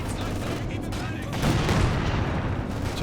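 A Stuka dive bomb detonates in Company of Heroes 2, a dense rumbling blast swelling midway amid a constant wash of battlefield gunfire and booms.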